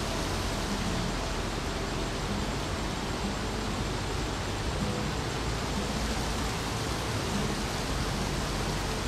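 Heavy rain in the video game Xing pours as an unbroken, full-bodied roar of noise, steady and loud throughout with nothing else over it.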